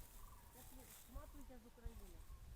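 Cranes fly overhead above a woodland during mushroom foraging, their faint, distant rolling calls repeating in a loose sequence under soft outdoor ambience.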